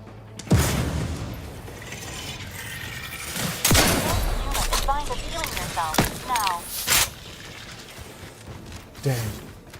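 Combat in The Outer Worlds 2 brings a sharp grenade blast followed by further booms and impacts, with someone talking between the bursts.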